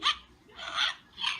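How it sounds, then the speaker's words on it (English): A toy puppy barks in three short, high electronic yaps spaced evenly apart, close and fairly loud, with no talking. "Mom bought him a little puppy that makes sounds. It barks. And it barks forever."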